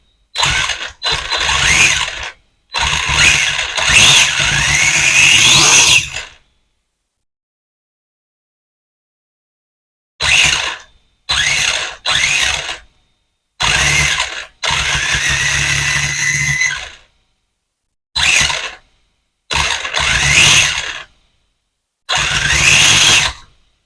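A BXR motorcycle engine, after work to reduce its noise, fires up and runs in loud, close bursts of several seconds, separated by abrupt silent gaps, with no speech.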